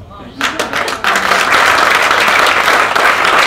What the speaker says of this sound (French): c'était au tour des 4 nouveaux élus fédéraux d'être chaleureusement applaudis